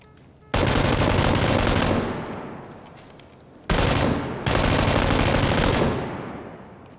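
A PUBG M249 light machine gun fires sustained, very loud automatic bursts: one long stream that tails off, then two more back-to-back streams, each ending in a fading echo, with no talk over them.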